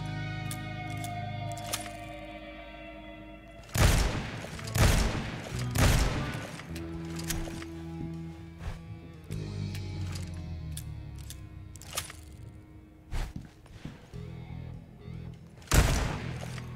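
Several sharp gunshots from Hellboy's gun in the video game Hellboy Web of Wyrd, spaced irregularly over low mechanical game sounds and a droning score, fairly close and moderately loud.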